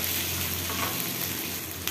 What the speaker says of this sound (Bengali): সবার আগে আমি পেঁয়াজটাকে একটু ভেজে নেব লাল লাল করে